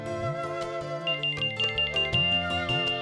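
Phone ringing indoors in a family home, a bright repeated electronic ringtone melody playing in short pulsing bursts, close and clear with no talking over it.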